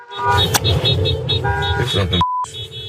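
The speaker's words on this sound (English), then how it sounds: "Another vehicle is behind the agents, also honking the horn." Car horns honking on a street where drivers warn of federal immigration agents, repeated short toots and longer blares mixed into busy, close traffic noise and voices, ending with a single clean beep.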